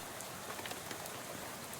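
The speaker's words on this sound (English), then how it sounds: "the sound of rain spattering on the window beside you" Rain spatters on a bus window in the game Shadows over Loathing, a faint, steady patter of drops with soft scattered ticks over an even hiss, with no voices.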